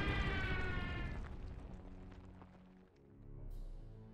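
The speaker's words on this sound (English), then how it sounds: "Bomb that enemy. Actually, destroy it." Bomber strike explosion in the WWII strategy game Order of Battle: Blitzkrieg, a deep rumbling blast that rolls on and slowly fades, with a second low swell of rumble near the end, game music tones underneath.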